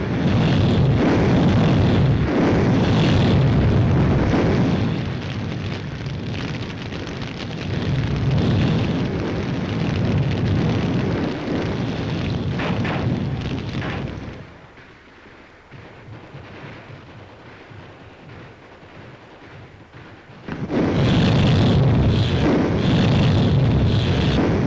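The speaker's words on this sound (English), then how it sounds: "Heavy enemy fire is coming from those caves." Heavy enemy fire and explosions roar in a WWII Pacific battle film about the Marianas, a dense, loud rumbling barrage that eases into a quieter lull before erupting again at full force.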